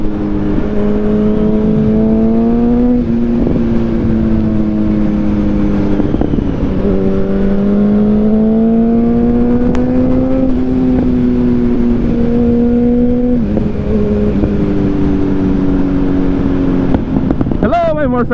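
A motorcycle engine revs in repeated rising and falling pulses, loud and close throughout, with a brief sharp burst near the end.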